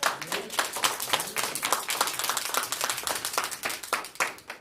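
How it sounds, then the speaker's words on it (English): A room full of people at a Toastmasters meeting clapping steadily for several seconds, a dense patter of applause at moderate volume with no voices over it. "Give D. Marie Smith a round of applause for being our Toastmaster."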